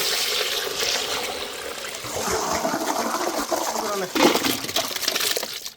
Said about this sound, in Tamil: தண்ணி ஊற்றி அலசிக்கிறானே